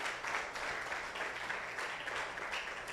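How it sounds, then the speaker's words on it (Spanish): A church congregation applauds during a sermon, giving steady, fairly faint clapping that stays even for several seconds with no voices over it. "Dele un aplauso."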